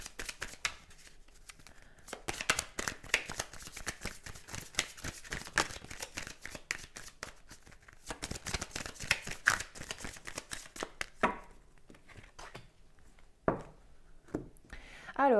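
Tarot cards shuffled by hand for a love reading, a steady run of close, dry riffling and flicking that comes in bursts and pauses, with soft rustles and a few sharper slaps toward the end.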